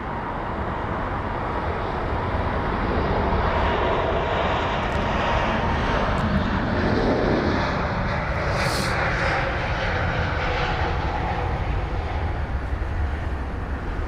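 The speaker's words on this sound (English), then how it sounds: "So off to Frankfurt goes this 320 Neo." A Lufthansa Airbus A320neo jet departs London Heathrow, its engines making a steady, loud, broadband roar that holds for the whole stretch and swells slightly midway, with no voices over it.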